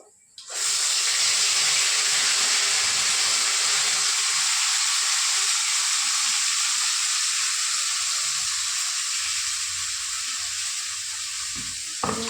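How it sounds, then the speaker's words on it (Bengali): Spices hissing and sizzling in hot oil after cumin seeds are tempered for a fish-head curry, a steady, close, broadband frying sound running unbroken for the whole stretch with occasional faint stirring clinks. "জিরে ফোড়ন দিলাম। জিরে ফোড়ন দিলাম। এবার মশলাটা, এই যে মশলা, এবার এই মশলাটা সবটা দিয়ে দেবো।"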